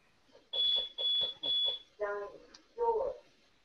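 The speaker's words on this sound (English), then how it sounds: "it has chimes on each door" A home burglar alarm system's door chime sounds as three evenly spaced electronic beeps followed by two lower two-tone chimes, fairly faint, with a low voice murmuring in between.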